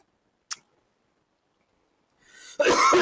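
A sharp click, then a rising throaty rasp that bursts into one loud, close cough near the end.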